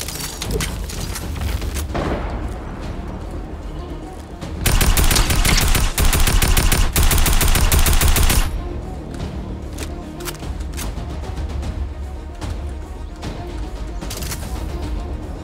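Sustained Fortnite gunfire, a continuous rattle of shots that swells into a very loud, dense automatic burst midway, then carries on at a steady level.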